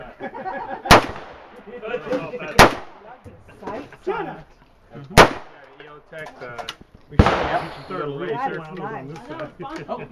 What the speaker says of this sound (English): the gentleman over here was going to shoot a couple rounds